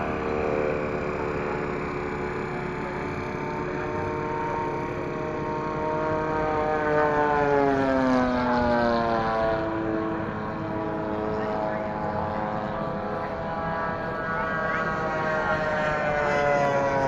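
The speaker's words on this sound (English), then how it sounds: "Here we have some jets." Model jet aircraft at a packed RC flying field, a continuous high whine with pitch sweeping up and down as one passes by, steady and moderately loud throughout.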